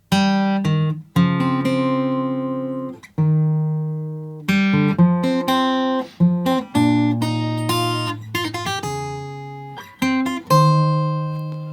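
A fingerstyle acoustic guitar in standard tuning plays a melodic line from The Legend of Zelda: Tears of the Kingdom, single notes and occasional two-note chords ringing out with clear decay, no voices present.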